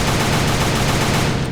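A Kel-Tec RFB rifle fires a rapid string of shots, loud and close, the reports blurring into one dense burst over barely more than a second.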